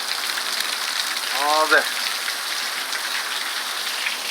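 Heavy rain pours down outdoors in Arizona, a dense, steady hiss filling the whole stretch, briefly broken by a short voiced sound partway through.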